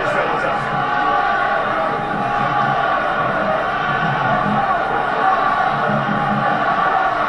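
Crowd at a rugby cup semi-final between Connacht and Toulon, a dense continuous roar of a stadium audience filling the whole stretch, with a faint voice over it.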